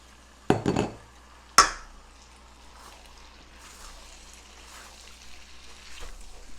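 Vegetables drop into a pot of cooked meat with two sharp clattering hits, followed by quieter scraping and stirring of the mixture, close up and otherwise calm.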